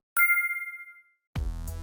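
A single bright ding-dong-dang chime sound effect rings out and fades over about a second. After a short silence, a louder, buzzy tonal sound cuts in.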